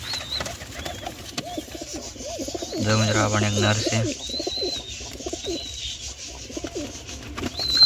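Pigeons, including a male, coo with repeated soft throaty calls close by, while someone talks over them and a brief flurry of wing flapping rises midway.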